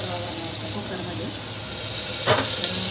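Onion, chili, cumin and mustard seeds sizzling in oil in a pressure cooker, a steady soft frying hiss with a brief stirring scrape, while someone talks over it.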